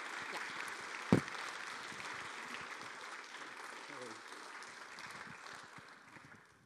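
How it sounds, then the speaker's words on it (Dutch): Applause from an audience at a university literary lecture and prize ceremony, moderately quiet and steady, with one sharp knock near the start and the clapping gradually thinning toward the end. "En een groot applaus."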